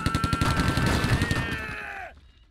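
Rapid bursts of enemy gunfire in the tactical game Silent Storm, a dense run of repeated close shots that cuts off abruptly near the end, with no talking over it.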